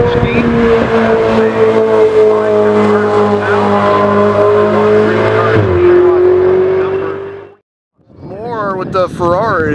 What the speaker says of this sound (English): So here's the LaFerrari again.